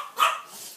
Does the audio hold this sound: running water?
no